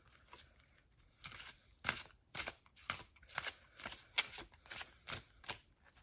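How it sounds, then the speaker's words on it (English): Large tarot cards are shuffled by hand in a quiet room, giving a series of crisp, papery riffling bursts at an uneven rhythm, close and fairly soft. "I'm going to go ahead and give these a shuffle"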